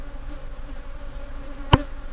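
Aggressive Africanized wild bee colony in South Texas: a constant close swarm buzz with darting individual bees and one brief sharp knock near the end.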